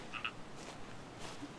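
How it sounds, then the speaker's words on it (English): Frog croaking in the Book of Travels video game, two short bright chirping croaks close together near the start, quiet ambient background afterwards. "The frog is always so hard to find."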